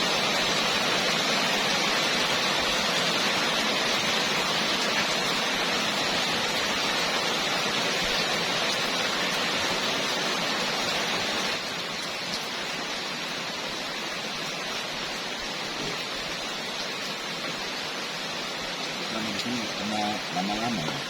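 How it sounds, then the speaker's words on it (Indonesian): Sudden heavy rain pours down on a garden, a dense continuous hiss that fills the whole stretch, steady and loud, easing slightly partway through, with faint voices near the end. "Tiba-tiba hujannya deras sekali."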